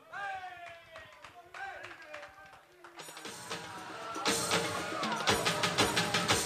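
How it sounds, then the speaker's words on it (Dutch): An audience at a talent show contest round in a Rotterdam grand café bursts into applause and cheering over lingering music. The clapping swells to a dense, loud wash that keeps growing toward the end. "Jongens, geven we daarvoor een applaus."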